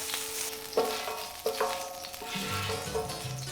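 Finely chopped squid fries in a paella pan for a sofrito, giving a steady loud sizzle with occasional scraping stirs and soft clunks of the utensil against the pan.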